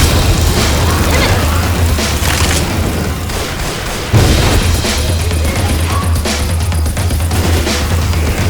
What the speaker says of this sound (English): Throw it a Molotov!